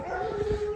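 A single short, drawn-out dog bark with a whining, tonal edge, fairly close and brief.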